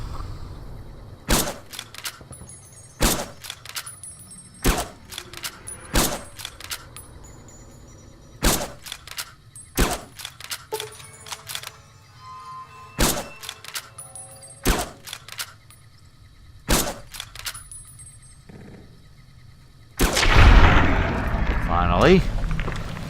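Gunfire from a weak gun in the game Fallout: New Vegas, with sharp single shots spaced irregularly over steady background hum, ending in a louder burst of noisy blasts.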